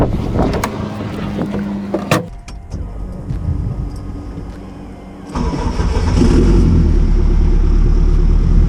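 Honda CRX engine cranking and catching, then running with a cylinder misfire in cold weather; a loud, close, rough mechanical roar that steps up sharply in level partway through and holds steady, with no talking.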